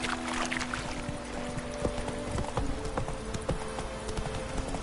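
Horse hooves clip-clop at a steady trotting rhythm in The Witcher 3, loud and close, with faint ambient game sound and no voices.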